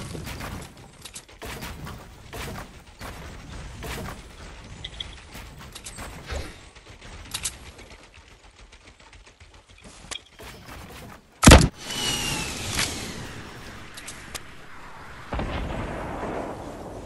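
Gunfire and sniper shots in the Fortnite battle royale video game ring out as scattered sharp cracks, with one loud blast near the middle followed by a burst of noisy action.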